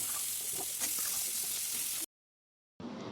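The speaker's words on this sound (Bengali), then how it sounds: "এবার পেঁয়াজ ভাজা হলে তাতে আগে থেকে ডুমো ডুমো করে কেটে রাখা কুমড়ো আলু দিয়ে দেব।" Diced pumpkin and potatoes fry with onions in hot oil, giving a dense close sizzle that stops for a moment before resuming.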